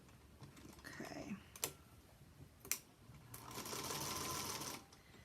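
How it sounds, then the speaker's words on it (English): A sewing machine stitches in the ditch along a quilt block, with short bursts of running motor and needle clatter, a couple of sharp ticks, then a longer steady run near the end. "I'm basically just stitching this block in the ditch."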